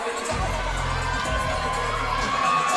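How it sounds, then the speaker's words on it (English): A crowd at an XFC 49 MMA event cheers and whoops steadily as a fighter prepares to enter the cage, a dense roar that fills the arena at moderate level without a break. "And you can hear that crowd."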